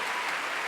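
Audience applause for a special-mention award at a TV series festival closing ceremony, a brief steady patter of clapping at moderate distance with no voices.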